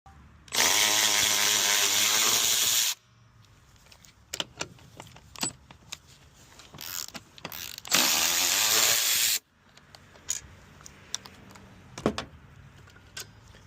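A ratchet wrench works loose the seat track bolts on a 1988 IROC-Z fourth-generation car, giving two long, loud bursts of rapid ratcheting separated by quieter clicks, taps and metallic handling noises close up.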